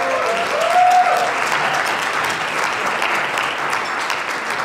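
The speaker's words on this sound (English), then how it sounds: "I just want everyone to give Michael a round of applause." A gala audience gives a sustained round of applause for Michael, a dense, even roar of clapping from a large room, with one short tonal whistle-like sound rising briefly near the start.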